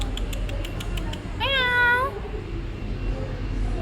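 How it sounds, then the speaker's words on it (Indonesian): A cat meows once, a short rising-falling cry heard close by, at a train station in winter, with low background hum and faint chatter. "ada kucing mbak."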